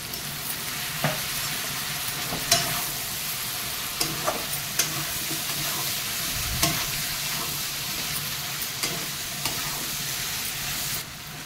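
Pea ghugni curry sautéing in a pan, a continuous close sizzle and hiss with occasional spoon clicks and scrapes spread through the stretch, no talk.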